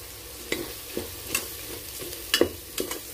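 A spice masala with turmeric and black pepper fries in a pan for a veg mutton keema, a soft low sizzle broken by a few scraping stirs of a spoon.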